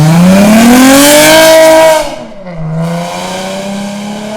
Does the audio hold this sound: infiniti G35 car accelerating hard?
yes